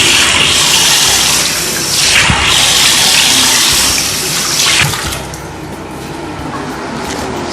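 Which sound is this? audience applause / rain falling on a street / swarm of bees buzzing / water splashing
water splashing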